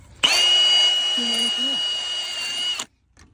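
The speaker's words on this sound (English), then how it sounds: "so I have a wire wheel here" A power drill fitted with a wire wheel spins up at once on a Honda GX390 11.7 hp small engine flywheel, holding a loud, steady high whine for about two and a half seconds, with a brief dip in pitch as it bears down, before cutting off abruptly.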